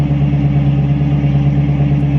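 Turbocharged LS-swapped engine in a 1986 Chevrolet C30 dually running steadily, a loud, close, even drone with a strong low hum and no talking.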